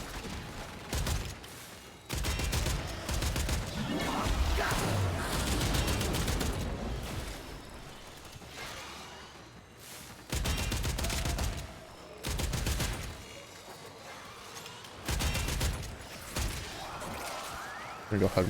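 Machine gun fire in a video game comes in repeated loud bursts of rapid shots, separated by short pauses, with some possible talk in the background.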